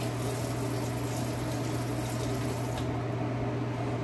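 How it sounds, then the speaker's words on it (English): Running water pours steadily over something being rinsed during soap making. The rush is even and continuous for a few seconds over a low hum, then turns slightly softer near the end, with no talk. "So I'm going to rinse that off a little"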